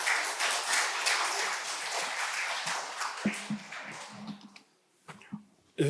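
Audience applause at an academic seminar hall welcoming a monk speaker, a dense wash of clapping that holds steady for several seconds then thins into scattered claps and a few handling thumps before fading.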